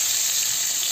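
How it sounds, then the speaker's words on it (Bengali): Pieces of pointed gourd (potol) fry in oil in a pan, a steady close hiss and crackle of sizzling throughout the short moment, with no talk. "তারপরে পটলগুলো দিয়ে দেবো। পটলগুলো ভাজা হোক।"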